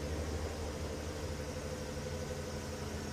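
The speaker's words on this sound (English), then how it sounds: "I keep hearing a car coming up behind me." Safari vehicle engine rumbling steadily at a sunrise game drive in Sabi Sand, a continuous low droning hum from behind with no talk.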